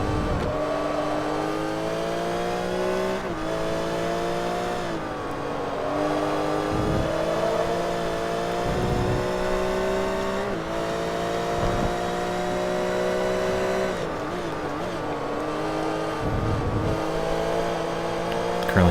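A German racing car in Forza Motorsport 3 drones with a high, steady engine note, rising through the gears with brief dips at each shift, alone and fairly loud throughout.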